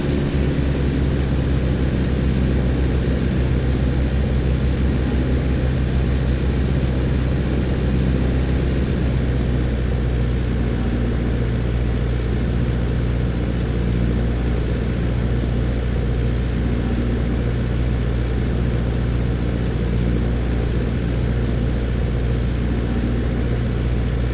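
Aircraft engine in the Flight Simulator X game, a steady, unbroken propeller-plane drone with low rumble, loud and even from start to finish.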